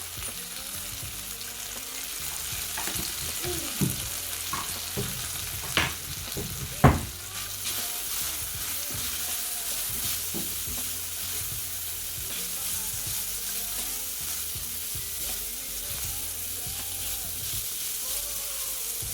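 Green peas cook with spices including cayenne and black pepper in a pan, giving a steady close sizzle throughout. A few louder knocks and stirring scrapes come early, then the frying hiss continues evenly on its own.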